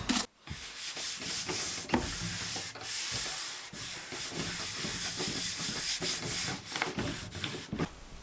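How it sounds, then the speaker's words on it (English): A cloth rubs white spirit over the wood veneer of a cocktail cabinet under restoration, making a continuous close, loud scrubbing hiss with brief breaks between strokes. "Now I'm just going to rub on a bit of white spirit just to check that I've removed all of the finish."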